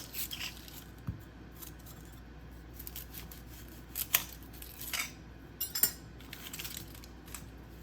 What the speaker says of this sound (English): I have a large yellow onion that I just want to cut the ends off of and peel.